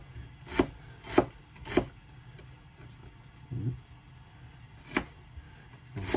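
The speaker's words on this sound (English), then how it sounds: "You want your onions or shallots fairly finely chopped for this." A knife chops onions or shallots finely on a board while cooking mushroom risotto aboard a narrowboat, with three quick evenly spaced chops, a softer knock, then a single later chop, all close and fairly quiet.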